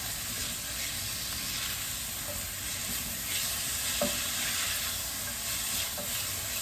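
Frozen greens sizzle and hiss steadily in a hot pan while deglazing it during Kung Pao chicken cooking, a continuous close frying crackle with occasional stirring clicks.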